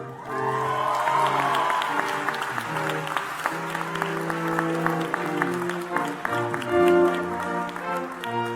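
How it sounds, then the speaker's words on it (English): An audience at the 2018 Class Day ceremony of Dartmouth's Geisel School of Medicine gives the medical graduates a full round of applause, a steady wash of many hands clapping that stays loud from start to finish. "Please join me in a final round of applause for all of our graduates."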